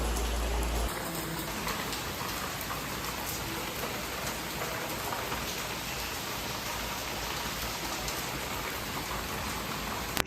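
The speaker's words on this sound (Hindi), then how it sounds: "अचानक से तेज़ बारिश शुरू हो गई, हम लोग घर आ गए और तेज़ हो गई है बारिश" Heavy rain falls steadily and densely on outdoor surfaces around a house in the evening, a loud, continuous hiss with no break and no talking for about ten seconds.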